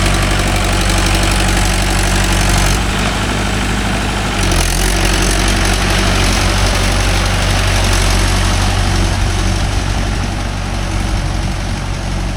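A Mahindra 575 DI tractor on cage wheels in a rice field runs loudly and steadily nearby, a low rumbling drone with a knocking, vibrating pulse throughout, no talking.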